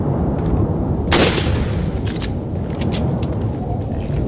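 Gunfire in the video game Resident Evil 4: a single sharp shot near 1.1 s with a lingering tail, then a few fainter cracks around 2 to 3 seconds over a steady low game ambience.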